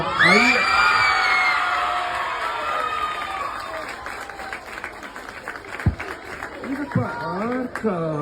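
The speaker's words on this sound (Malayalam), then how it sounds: "ആലപ്പുഴ ജിംഖാനയുടെ കൂടെ വന്നു ശിവയ്ക്ക് ഒരു കൈയടി കൊടുക്കാം" Loud applause mixed with cheering and whoops from an audience for a performer named Shiva, strongest at the start and then thinning into scattered claps and shouts.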